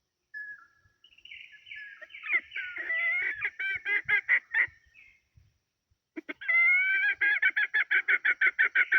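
A rooster with long spurs crows twice, close and loud: each crow is a long, wavering call that breaks into rapid pulsing notes, with a short quiet gap between them.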